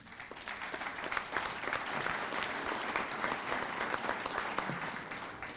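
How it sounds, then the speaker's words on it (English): An audience at a winter conference claps in a steady, dense burst of applause that holds evenly for several seconds, with no talking over it. "If I'd known you were going to clap"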